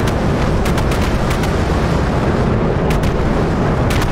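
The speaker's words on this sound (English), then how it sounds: "SM-6 is being fired, viewers" Loud, sustained roaring rumble of an SM-6 missile launching from a warship in a naval warfare video game, dense broadband noise holding steady throughout with a few brief sharp bursts on top.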